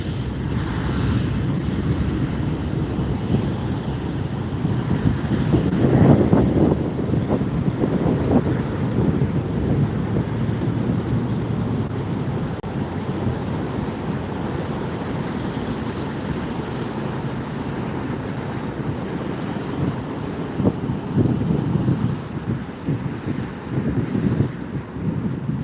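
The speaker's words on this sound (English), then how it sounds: "Delta rolling down the runway." A Delta airliner rolls down the runway at LAX on a cloudy, overcast day, giving a loud, steady jet roar with a swell near six seconds, heavy wind buffeting, and no talk.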